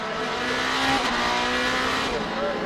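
Superlights race cars at Zandvoort circuit roar along steadily with a loud, continuous engine drone and a slight pitch rise, under excited race commentary.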